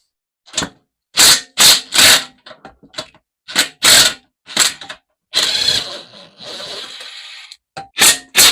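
A socket wrench works at the engine bolts of a disassembled lawnmower, giving a series of sharp ratcheting and metallic scraping bursts with short pauses, then a longer sustained rasping stretch, close and fairly loud with no talk.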